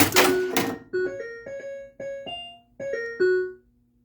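A Harlem Globetrotters pinball machine under repair gives a noisy mechanical clunk as the ball is kicked into the shooter lane. A rising series of clear electronic tones follows, each starting with a soft thunk.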